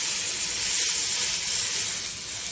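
Buttermilk poured into hot oil spiced with curry leaves and Kashmiri red chilli: a steady, loud, bright hissing sizzle that holds evenly with no talk.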